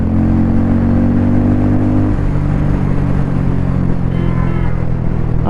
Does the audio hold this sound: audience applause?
no